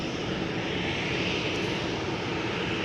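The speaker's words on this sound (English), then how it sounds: "This is KLM flight 1185, destination Bergen, 737-800, PHPGA, 15 years old," A KLM Boeing 737-800 airliner at Schiphol Airport produces a steady, broad engine roar, continuous and fairly distant, with no voices over it.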